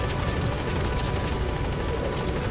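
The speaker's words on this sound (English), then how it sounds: "That support helicopter's here." A steady, loud support helicopter rotor drone in Metal Gear Solid V, with rapid chopping pulses, continuous throughout with no talking.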